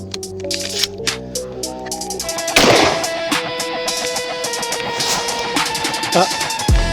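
Aselkon S4 semi-automatic shotgun firing a light 24-gram cartridge, one loud sharp report partway through, preceded by clicking handling noise and followed by ringing clatter and background shuffling.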